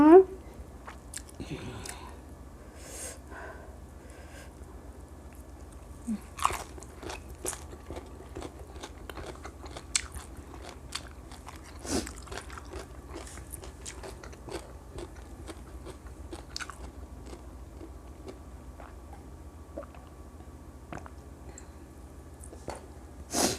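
Crunchy bites and chewing of blanched, crisp vegetables eaten with shredded fermented fish, heard up close as irregular crisp crunches and wet mastication, with people talking intermittently over it.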